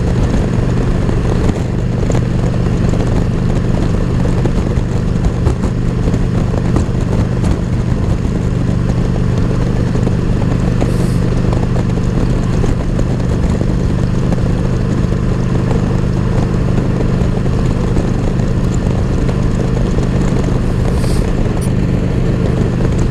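A Screaming Eagle 110 cubic inch motorcycle engine runs with a close, loud, steady low rumble and a constant clattering throb throughout, with no speech.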